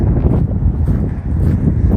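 Steady low rumbling wind buffets the microphone outdoors at a construction site, a continuous blustery roar with no voices.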